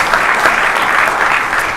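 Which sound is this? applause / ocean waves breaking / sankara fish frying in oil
applause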